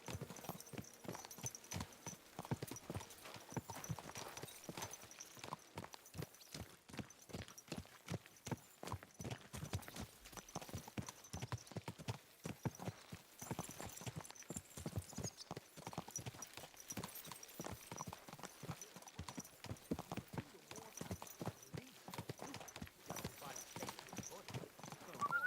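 Horse hooves clip-clop steadily on the ground in the medieval video game Kingdom Come Deliverance 2, a brisk, even rhythm that carries on without pause, quiet and fairly close.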